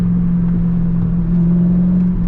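Engine of a manual Corvette C5 on a backroad drive: a steady, loud, low droning hum that holds nearly level throughout, shifting only slightly midway, with no voices.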